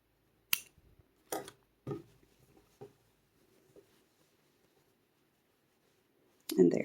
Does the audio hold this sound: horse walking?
no